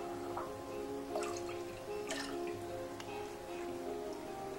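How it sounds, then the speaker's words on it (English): Citrus juice poured into a cup of green tea, giving soft dripping and trickling liquid sounds in several short bursts over a faint steady background hum. "So then what I do is I just pour my citrus juice in my tea here."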